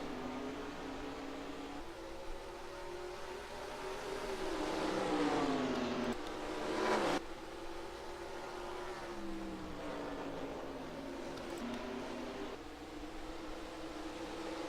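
Pack of NASCAR stock cars in NASCAR Racing 2003 roaring away on a restart at Bristol, a steady dense engine drone with rising and falling pitch as they accelerate, loud and continuous, with a brief surge midway.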